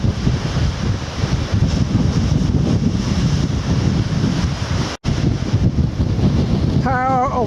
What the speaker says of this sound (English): power of the waves.